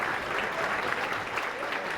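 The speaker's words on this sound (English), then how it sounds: "So please give y'all a round of applause." An audience at an NAACP Freedom Fund celebration claps in steady, dense applause, a continuous even wash of hands with no voices rising above it.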